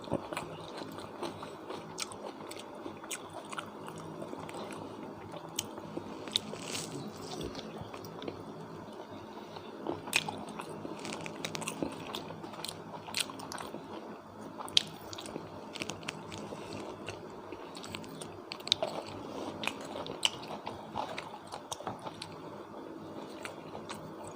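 Quiet close-up eating of beef in a Thai spicy herb stew, with soft wet chewing, biting and squishy mouth sounds repeating steadily throughout, no talking.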